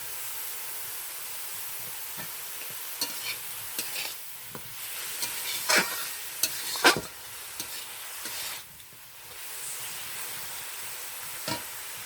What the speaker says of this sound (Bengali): হালকা আঁচে মশলাটা ভালো করে কষিয়ে নিচ্ছি